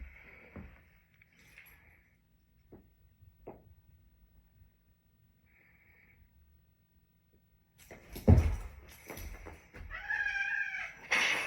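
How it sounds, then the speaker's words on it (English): A cat meows and yowls while play fighting with a dog indoors, with a few faint scattered cries early on and louder scuffling and caterwauling near the end, no speech. "My dog and my cat like to play fight each other."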